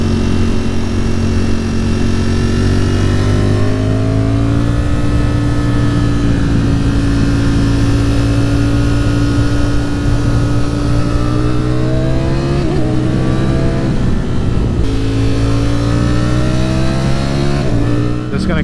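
A Ducati Streetfighter V4 motorcycle engine runs loud and close, its steady tone climbing and falling through several revs, with a sharp throttle blip near the end.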